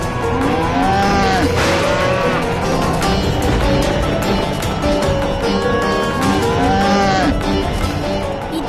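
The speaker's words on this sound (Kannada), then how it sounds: "ಈ ಹಸುಗಳೆಲ್ಲ ಎಲ್ಲಿಗೆ ಹೋಗ್ತಿವೆ?" A herd of cows moos with several long, drawn-out calls that rise and fall. They sound loud and close over a constant background rumble while the animals move off together in one direction.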